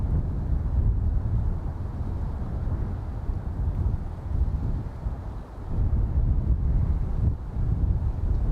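Wind gusts at Dublin Airport buffet the microphone in a steady low rumbling roar, swelling and easing, loud and close with no other distinct sounds.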